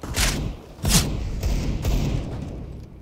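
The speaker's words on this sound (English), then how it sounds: "I'm throwing smoke." Grenades thrown in the shooter game CS:GO land with several dull, booming thuds, followed by a steady hissing wash as a smoke grenade pops and spreads, loud and close without any voices.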